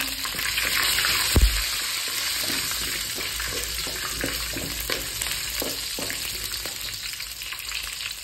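Green chillies dropped into hot oil with garlic for a Kannada onion rice, giving a steady close frying hiss with a heavier thump and crackle early on, then light scraping and spattering throughout, no voices.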